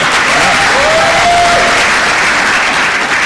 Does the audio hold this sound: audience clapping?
yes